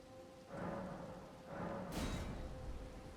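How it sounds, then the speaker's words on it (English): Steady rainfall in Elden Ring: Shadow of the Erdtree, a continuous hiss with surging swells and a brief brighter burst partway through, no talking. "Of course it's raining. Still raining."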